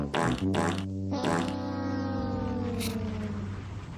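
A comedic fart sound effect plays alone, starting with a few quick sputtering bursts and then drawing out into a long, loud, low droning blast that slowly fades.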